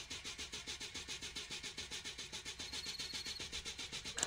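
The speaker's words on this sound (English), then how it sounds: "Proceed to start the engine." A car engine in an indie horror video game cranks over and over in a fast, even rhythm without catching, a sputtering starter sound that continues throughout.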